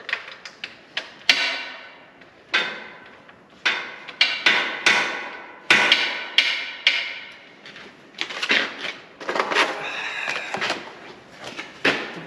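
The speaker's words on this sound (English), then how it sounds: "don't hammer on your battery post" Hammer blows on a battery post of a barn-find International Harvester 1456 Gold Demo tractor, loud and close, coming in irregular bursts of several sharp metallic strikes separated by brief gaps.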